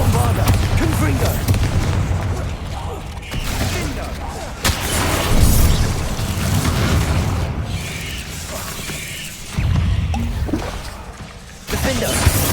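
Explosive spell blasts from Bombarda and Confringo in the Hogwarts Legacy video game, several booming bursts and shattering impacts in quick succession amid battle noise, with a voice speaking between them.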